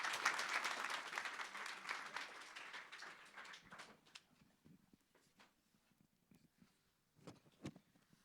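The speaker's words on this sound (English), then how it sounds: "Another round of applause for Alpha Cat, Ben Lee and his team." Audience applause at a blockchain ecosystem launch event, a burst of loud clapping that fades over a few seconds into scattered claps and faint room noise.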